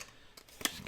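Scissors snip paper to cut a decorative edge for a handmade Christmas gift, a couple of short, quiet close-up cuts with one crisper snip near the end.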